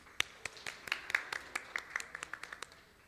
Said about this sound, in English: Yeah, clap for him.